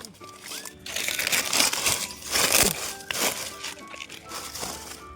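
Soil and dry leaves being tipped into a grow bag make a dry, crinkling crunch with gritty rustles in several bursts, and a voice murmurs faintly underneath.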